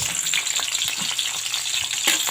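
Garlic and onion sauté in hot oil in a pan, giving a loud, continuous close sizzle with light clicks from stirring and no voices.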